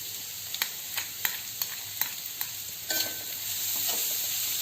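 Ginger, garlic and green chili sautéing in a pan, a steady hissing sizzle with a regular series of crisp spoon taps and scrapes, then the frying swells louder near the end, close up, no voices.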